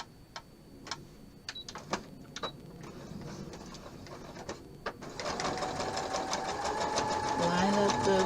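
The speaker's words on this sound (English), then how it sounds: "Line up the presser foot with that row of stitching and then come down and back stitch." Faint taps and handling sounds come first, then a sewing machine starts and backstitches along a row of stitching on a table linen, a quiet, close, steady whir that keeps running to the end.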